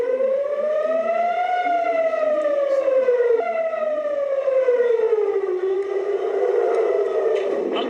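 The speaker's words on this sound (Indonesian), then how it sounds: "Sirine bunyi tanda peringatan terdengar di Tel Aviv pasca serangan" Air raid warning siren wailing over Tel Aviv, a loud continuous tone rising and falling slowly across several seconds, heard alone without voices.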